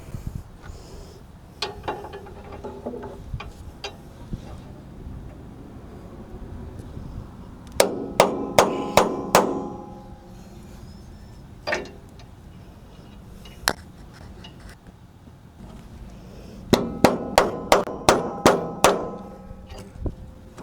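Sharp metallic hammer strikes on a punch into a metal strap during a 1980 IH S-1854 truck build come in two quick bursts of rapid blows, separated by quieter stretches with occasional single clanks.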